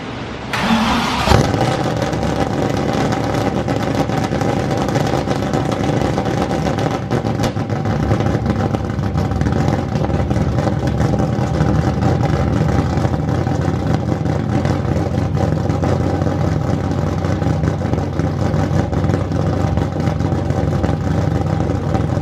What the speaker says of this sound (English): I'm going to have to start it even though I didn't want to